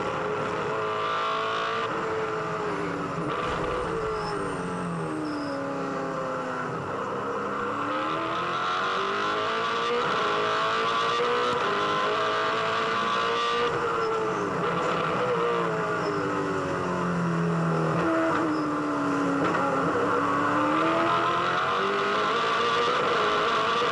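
A Supercars race car laps Sandown circuit, its engine droning loud and steady with rising and falling pitch through gear changes and corners, with no talk over it.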